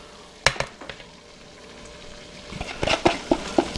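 Chopped onion, garlic and celery tumble into a hot gumbo roux in a pot, bursting into sizzles and frying crackle with a few scraping stirs, up close and without talk.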